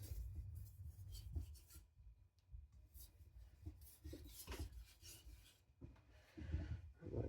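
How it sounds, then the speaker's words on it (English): A kitchen knife drags lightly across a diamond sharpening plate to take off the burr, a quiet, close rasping scrape in several uneven strokes with short pauses between them. "I'm using just the weight of the knife just to get rid of any burr"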